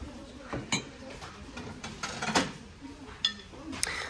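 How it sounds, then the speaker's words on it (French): Gold-rimmed mugs and dishes in a discount store clink and knock as they are handled, a few light close chinks spread over a few seconds under a soft background murmur. "Cette vaisselle aussi est arrivée en nouveauté. Donc on a les mugs avec un tour doré."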